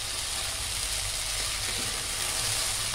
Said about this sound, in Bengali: দিয়ে দিচ্ছি তেলের মধ্যে তেজপাতা, দিয়ে দিচ্ছি আধা চামচ জিরা